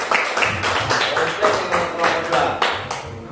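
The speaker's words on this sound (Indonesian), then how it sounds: "Beri tepuk tangan untuk kelompok" Students in a classroom clap for a group of classmates, a rhythmic burst of hand claps in near-regular beats, with a teacher speaking alongside.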